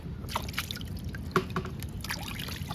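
Crabs are rinsed under running water, with a soft continuous trickle and splash, faint and close, broken by light clicks and knocks of shells being handled.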